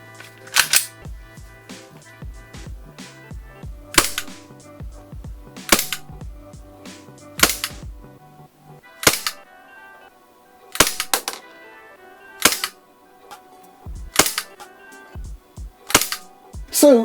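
A Huntsman Tactical H18c gas blowback airsoft pistol fires on semi-auto, giving about a dozen loud, sharp single cracks at uneven intervals, each with a mechanical slide clack, close up, with faint handling noise between shots.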